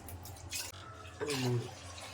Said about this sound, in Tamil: அதனால் 3 கிளாஸ் தண்ணி ஊற்றிக்கோங்க